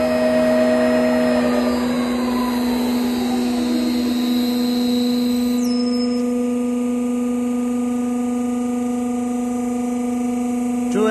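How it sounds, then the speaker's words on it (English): The hydraulic system of an 800L SS304 stainless steel vacuum ribbon mixer drives its top lid open with a loud, steady mechanical hum and sustained tonal whine that continue without pause. "Driven by the hydraulic system, the top lid is opening"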